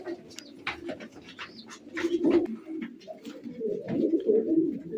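Pigeons cooing close by in a loft, repeated low throaty coos overlapping in an uneven rhythm, with faint chirps and rustling around them.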